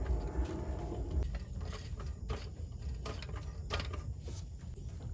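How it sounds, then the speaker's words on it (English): A car jack being raised under the front control arm of a 2005-2014 Mustang during a lowering-spring install, with faint steady mechanical ratcheting and creaking clicks, low and close, no talk. "Jack up this control arm so I can lift the strut up."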